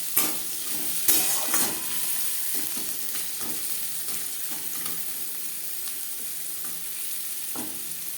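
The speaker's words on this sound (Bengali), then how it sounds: "পেঁয়াজ ভাজা হয়ে গেছে, দিয়ে দেবো গাজর" Grated carrots tossed into a pan of fried onions, sizzling steadily in hot oil while a spatula scrapes and stirs with occasional clanks against the metal; close, continuous frying with no talk.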